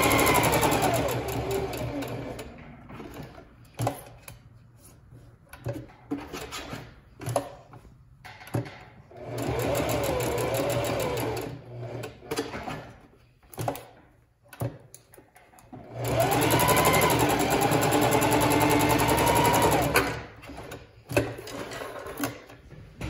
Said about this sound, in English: Always back stitching.